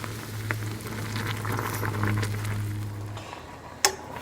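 Pancit canton noodles boiling in a pot on the stove, a steady bubbling simmer with light popping and pattering throughout, close and moderately loud, with one sharp tap near the end and no talking.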